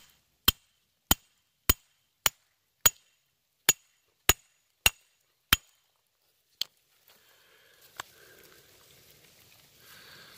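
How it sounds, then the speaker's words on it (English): Nine sharp, evenly spaced hammer strikes on hard gold, silver, copper, zinc and lead ore samples from a mine dump ring out one after another, then a single later blow and quiet rustling. "So let's get into it and start hammering them."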